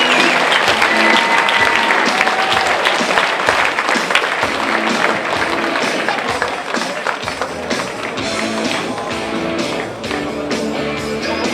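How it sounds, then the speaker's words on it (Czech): Sustained applause for boxer Radek Wančura after his bout against Jan Landa at an MG Fight Night event, loud and steady clapping from a large crowd that holds throughout and fades slightly toward the end. "ale potlesky pro Radka Vančuru"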